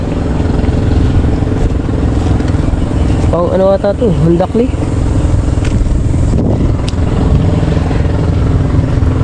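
A motorcycle engine drones steadily and loudly close by while people talk over it in Filipino, with a brief clatter midway.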